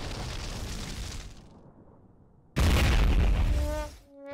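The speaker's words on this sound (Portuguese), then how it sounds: "Ele tava já andando de costas pra não ver a explosão" A loud explosion booms in the Beast Battle Simulator video game: a sustained rumbling blast dies away, then a second sudden heavy boom erupts and fades with a ringing tail. No one speaks.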